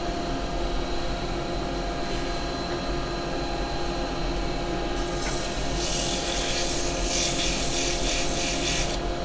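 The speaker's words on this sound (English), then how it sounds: "Now I'm going to sand that a little bit." Sandpaper rubs against a turned pine end-grain plant pot spinning on a wood lathe, a steady close scratchy hiss over the lathe's constant hum that grows brighter and louder about halfway through.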